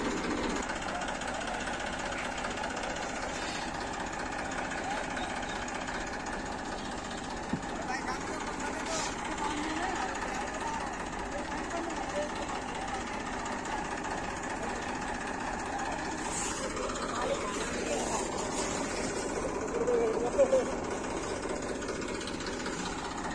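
A tractor and a JCB digger run their diesel engines outdoors, a steady low idling rumble with occasional revving that continues throughout, with people talking over it.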